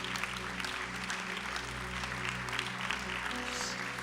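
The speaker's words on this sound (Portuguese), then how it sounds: "Vamos aplaudir o Senhor Jesus." A church congregation applauding during a worship service, steady continuous clapping from many hands heard at a moderate distance without a break.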